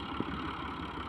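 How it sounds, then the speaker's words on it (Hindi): A steady, dense mechanical rumble of a tractor-driven corn sheller shelling maize, running continuously, loud and close with no pauses. "उसके बाद शीलर मशीन को ट्रैक्टर के साथ जोड़कर चलाया जाता है।"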